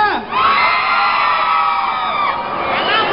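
A rock concert crowd in a yelling contest, many voices shouting and cheering together in one loud, sustained roar that holds for several seconds.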